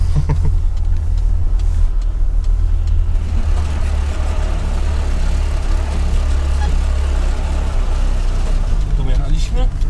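A car towing a 1979 caravan along a caravan-park lane gives a steady low engine and road rumble throughout, with people talking over it inside the car.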